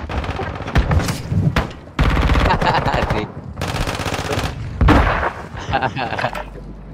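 A shotgun blasts in a Doom video game, heard as loud, rapid bursts of gunfire separated by short gaps, with voices talking at times between the shots.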